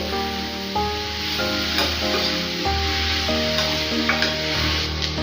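Amaranth leaves and moong dal stirred in a pan over low flame, a steady sizzle under repeated scraping and mixing strokes, close and continuous with no voices.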